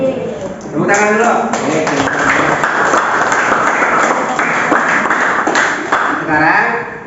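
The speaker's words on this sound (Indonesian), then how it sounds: "Tepuk tangan dulu." Classroom pupils and teacher clapping hands together, a steady close burst of applause lasting several seconds with speech over the start and end.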